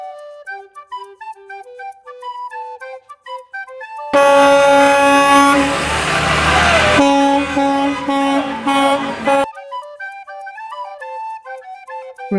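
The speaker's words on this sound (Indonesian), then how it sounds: "School bus." A school bus sounds with a loud horn blast and engine noise for several seconds, set between stretches of background music.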